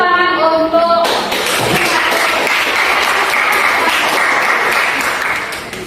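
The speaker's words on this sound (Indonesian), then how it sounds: "Tepuk tangan untuk" Applause in a classroom coaching session, a loud, close wash of clapping that starts abruptly after a short tonal sound and continues steadily before tapering slightly at the end.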